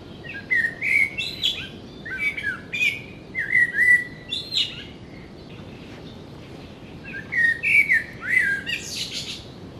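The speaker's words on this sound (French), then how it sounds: "le merle noir est l'un des plus beaux chants du règne animal" A common blackbird sings in clear, flute-like phrases, several short melodic bursts separated by pauses, moderately close over a faint outdoor background.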